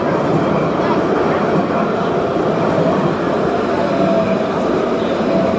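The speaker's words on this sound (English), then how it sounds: "Another train is coming by." A train passes through downtown Jerusalem with a loud, steady rolling rumble and a broad rush of wheel and track noise close by, no voices over it.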